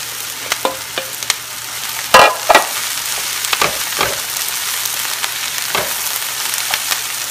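Shredded cabbage tossed into a hot pan with caramelizing ingredients, hissing in a steady sizzle while a utensil stirs and clacks against the pan in scattered close knocks.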